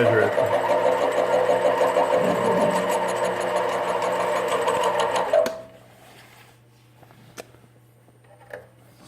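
A CNC lathe running a shallow test cut, its steady mechanical whir loud and continuous for about five seconds before stopping abruptly, leaving quiet room tone with a couple of faint clicks.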